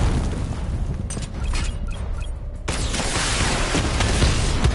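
Missile barrage explosions in Batman Arkham Knight, a dense rumbling series of booms and bursts with a sharp new blast partway through, loud and continuous with no voices.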